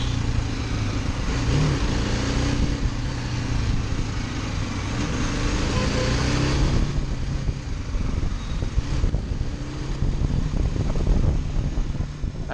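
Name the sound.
BMW G310GS motorcycle riding over rough road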